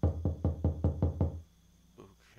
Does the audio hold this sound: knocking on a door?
yes